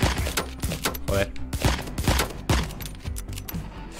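Rapid gunshots pop in quick irregular bursts in the video game Door Kickers: Action Squad, mixed with thumps and game sound effects at moderate loudness.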